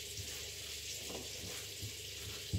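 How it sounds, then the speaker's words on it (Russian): Cottage cheese pancakes (syrniki) made without flour fry in a pan with a continuous, even hiss of sizzling oil, with a few faint clinks and soft knocks near the end. "Видите, зашипело."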